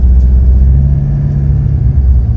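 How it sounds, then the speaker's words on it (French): A car engine with a worrying turbo noise drones in a loud, steady low rumble heard from inside the vehicle, with a faint tonal whine running through it for a couple of seconds. "Malgré ce bruit de turbo qui nous soucie quand même pas mal"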